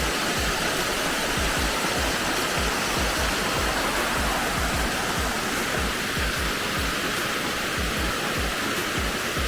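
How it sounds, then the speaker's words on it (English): A steady, loud roar of falling water from a waterfall in an open mountain meadow on Mt. Rose, a hike near Lake Tahoe, rushing continuously with no voices. "There's this cool waterfall here too."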